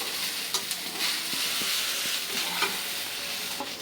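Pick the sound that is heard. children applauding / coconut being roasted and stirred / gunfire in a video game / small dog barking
coconut being roasted and stirred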